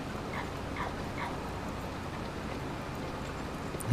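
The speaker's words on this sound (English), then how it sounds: "I can't figure out if that's a dog barking or if it's supposed to be a crow call" Distant dog-like barks or crow caws repeat three times in quick succession over steady wind and ambient noise in Farming Simulator 25, fading into the background afterward.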